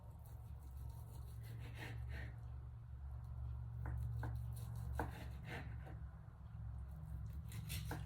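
Roasted turkey breast being sliced with a serrated knife, a run of quiet repeated sawing and cutting strokes close by over a steady low background hum, with no talk.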